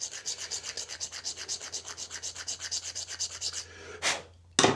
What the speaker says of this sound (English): I could have it done with the file here.